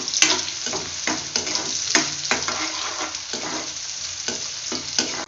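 Onions lightly frying in oil in a pan for a chicken fry biryani sizzle steadily while a spatula scrapes and stirs in repeated strokes, close and with no talk.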